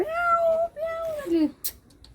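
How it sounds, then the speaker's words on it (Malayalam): A kitten meows in a few drawn-out, rising and falling cries, fairly close and clear, with a short sharp noise near the end. "ആ പൂച്ചക്കുട്ടി അവിടെ വിളിച്ചിരിക്കുന്നുണ്ട്"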